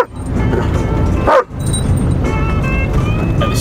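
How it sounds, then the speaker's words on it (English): A dog leans out of a moving van window and barks, a few quick yips heard over the loud, steady rumble of road and wind noise. "He puts his head out the window and barks to get a bit of peace."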